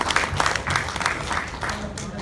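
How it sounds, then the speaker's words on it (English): Audience applause at an annual company dinner, a dense continuous patter of clapping throughout with crowd murmur mixed in, moderately loud and steady. "Give them a big clap to Lisa and Wani"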